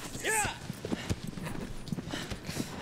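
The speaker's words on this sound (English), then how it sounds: "Look at that horse." Horse hooves in Shadow of the Colossus, steady clip-clop footfalls beneath overlapping talk, with a brief whinny early on.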